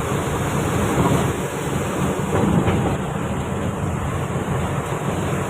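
Heavy rain pouring over flooded Chittagong city streets, a dense, steady roar of water with a constant broadband wash and no speech.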